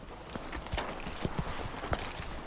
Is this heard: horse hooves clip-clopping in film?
yes